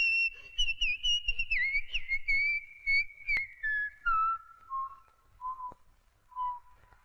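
A person whistles alone indoors, a wavering tune in short phrases that steps downward, clear and fairly close, with quiet background.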